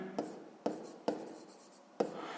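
Pen strokes and taps on paper while a 6th-grade math solution is written out, four sharp marks at uneven intervals over a soft continuous scratching, close and quiet, with no talking.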